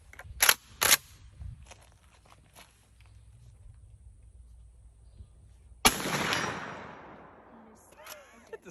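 A 12-gauge Benelli Nova pump shotgun with a modified choke fires a single loud blast of 00 buckshot at an outdoor range. The report decays slowly, preceded by a few sharp knocks and followed by faint clicks.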